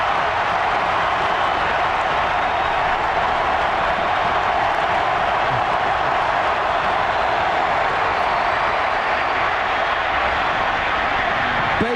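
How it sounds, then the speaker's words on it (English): Crowd at a 2006 Florida Gators vs. Auburn college football game, a loud, dense, unbroken roar of cheering spectators filling the stadium throughout. "Listen to this crowd."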